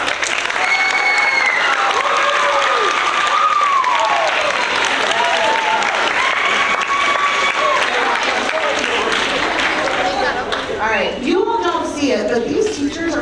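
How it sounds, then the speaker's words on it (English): Audience at an eighth-grade honor roll assembly applauds its teachers, sustained dense clapping filling the room for about ten seconds, with shouts and cheers mixed in, then fading as voices rise near the end. "Can we give them a round of applause?"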